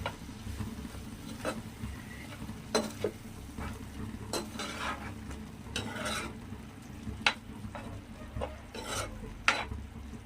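Spoon stirring prawn curry after half a spoon of masala powder is added to the pan, with scraping clinks at a steady pace over a soft low sizzle, near and moderately quiet with no talking.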